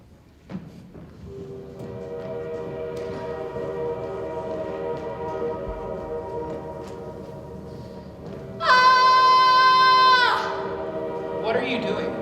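A train rumbles steadily past, then its horn blares loud and sustained for a couple of seconds before fading back into the rolling rail noise, with a brief second blast near the end.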